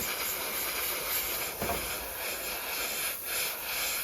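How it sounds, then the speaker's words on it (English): An airbrush sprays paint onto a vintage Airfix RAF Recovery Set model kit, giving a continuous close hiss with slight pulses as the spray is worked. "So I'll airbrush the rest of that."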